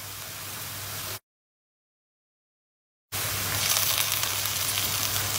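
Onions frying and starting to burn in a pot for lentil soup give a steady, close, hissing sizzle that cuts out to full silence for about two seconds, then returns slightly louder.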